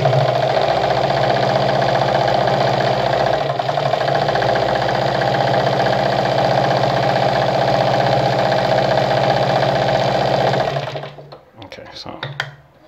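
A Vigorelli ZZ/A robot sewing machine stitches at a short stitch length, giving a steady, close, whirring hum that runs for about eleven seconds and then stops, followed by a few faint clicks.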